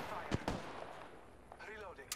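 Two sharp, loud charge rifle shots crack in quick succession early on during an Apex Legends firefight, followed by quieter game sounds and a brief voice near the end.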